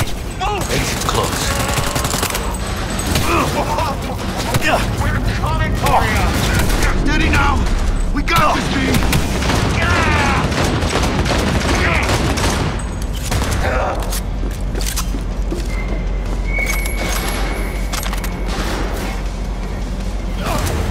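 Dense, loud gunfire from the video game Cyberpunk 2077 rattles almost without pause, overlapping bursts and single shots with booms, while voices shout over the shooting.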